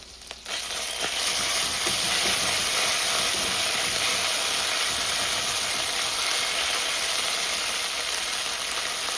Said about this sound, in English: So frying the tomato paste.